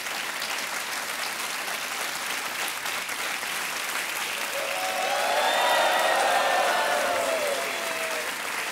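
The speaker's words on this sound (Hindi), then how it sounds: "और तालियां बजती रहनी चाहिए।" Studio audience applause fills a TV quiz show set, a steady dense wash of clapping that swells slightly louder toward the end, with a faint background tone running underneath.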